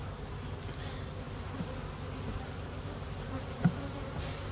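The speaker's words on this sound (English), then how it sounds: "And there's some bees in here" Honey bees hum in an open hive during a hive inspection, a faint, steady, low buzzing that continues throughout with one brief soft knock.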